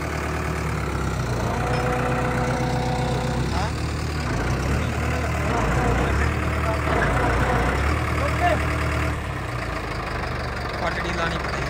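A New Holland 3630 tractor engine runs continuously at a steady low rumble, close by, with people talking over it throughout.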